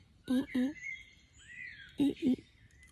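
A human voice mimics a young bird's call in two pairs of short, squeaky chirps separated by a brief pause.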